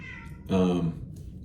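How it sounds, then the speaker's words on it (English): A pet cat named Whiskey gives one short, clear meow indoors, close and moderately loud over a quiet room. "if you guys hear the meows, that's my cat Whiskey"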